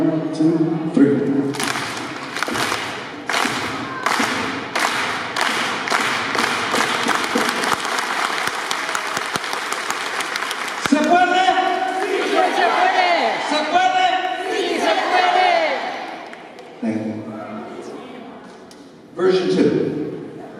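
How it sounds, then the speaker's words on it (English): A crowd at an agrarian organizing gathering performs the unity clap, a steady rhythmic clapping that speeds up into fast applause, then breaks into a loud shouted Si Se Puede chant with cheering voices. "we're gonna do the unity clap first, the solidarity clap first with the Si Se Puede"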